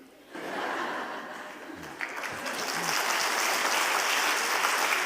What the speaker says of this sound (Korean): 박수를 유도하려고 그런 건 아니고요